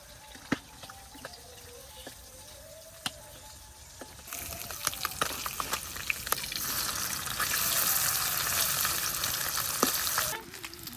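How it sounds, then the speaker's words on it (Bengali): Fish frying on one side in hot oil in a village kitchen: a few clinks at first, then a steady sizzle swells loud and close, peaking near the end before cutting off. "মাছের এক পিঠ ভাজা হয়ে গেছে,"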